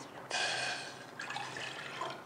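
Water pours steadily from a vessel in a home kitchen, one cup measured out for a peach drink, a close broadband splash with a brief break midway, alone with no talk.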